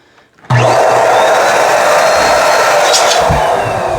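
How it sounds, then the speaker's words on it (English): A corded pink Borisino electric balloon inflator pump switches on abruptly and runs with a loud, steady high-pitched motor whine and rushing air, continuous to the end. "the pink pump is actually a Borisino. It's not cordless."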